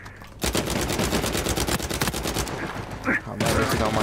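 Automatic gunfire in Uncharted 4 multiplayer team deathmatch, a loud, rapid stream of close shots with a brief pause near the end before firing resumes, with a voice talking over it.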